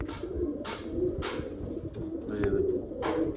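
Pigeons of a flying breed cooing close by, several soft repeated coos in a steady rhythm over faint background noise, with no talk.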